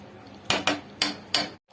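A metal lid is set onto a pot of chicken biryani left to simmer, giving four sharp clanks in quick succession, close and fairly loud, with nobody speaking.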